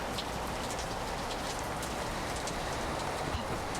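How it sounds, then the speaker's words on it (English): Steady rain from the video game Heroes of Might and Magic III, a dense, even hiss of falling drops that holds at a constant low level, with no voices over it. "Rain sounds like someone left the shower on."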